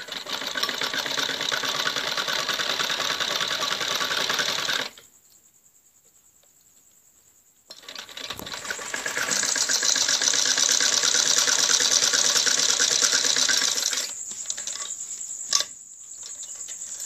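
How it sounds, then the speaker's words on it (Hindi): A sewing machine runs steadily while stitching fine seams along the edge of a kurti neck collar, its loud continuous whir pausing for a few seconds midway before starting up again and stopping briefly near the end. "फिर इसके ऊपर ऐसे बारीक सिलाई लगानी होती है, कन्नी कन्नी, बिल्कुल कन्नी के ऊपर"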